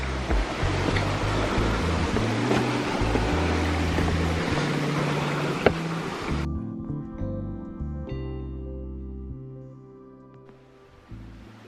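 Steady rushing water from small mountain-trail cascades on Ziburumendi, Ciboure, fills the first part, a broad continuous wash, then it drops off sharply, leaving a quieter flowing background.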